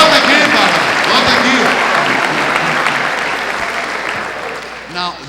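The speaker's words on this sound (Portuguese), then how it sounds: "Vamos dar uma salva de palmas a esses que ficaram de pé." A church congregation breaks into sustained applause, a dense wash of clapping that holds steady for several seconds before tapering, with a few voices faintly underneath.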